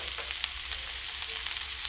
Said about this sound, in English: Mix veggies with oil. Stir it always, then it will be mixed very well.